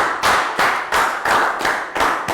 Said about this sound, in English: Big round of applause for Pak Boom.